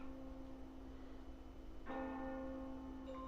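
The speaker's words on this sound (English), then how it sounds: "The bell has struck midnight." Bells ring at midnight in the video game The Guided Fate Paradox, starting as a sustained tolling hum, then a fresh clear strike near the end that rings out over a quiet background.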